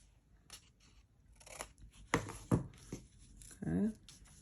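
Scissors snip through a piece of paper during a collage journal craft session, a few short crisp cuts close to the microphone in a quiet room, with soft paper handling between them.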